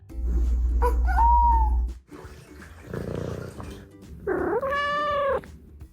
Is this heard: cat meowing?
yes